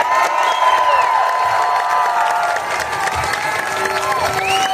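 A large indoor audience at a political event applauds and cheers loudly and steadily, dense clapping with scattered whoops, no speech over it.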